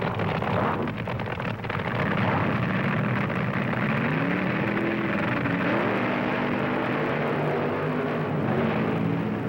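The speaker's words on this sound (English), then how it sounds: "The funny cars of Gene Snow and John Decker." Funny cars in an NHRA drag race roar loudly and continuously, engine pitch climbing and sweeping as they charge down the strip, with no voices over the noise.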